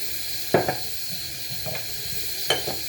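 Flour is toasted in a pot as the base for a lamb neck stew. A soft, steady sizzle runs under two pairs of sharp spoon scrapes against the pot, close and moderately loud.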